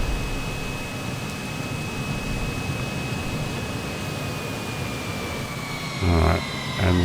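Steady, loud whine of a Beast Horus Microjet jet engine running in Microsoft Flight Simulator, a continuous roar with a high tone that persists throughout, with a brief thump near the end.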